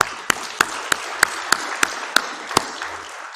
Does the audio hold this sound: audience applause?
yes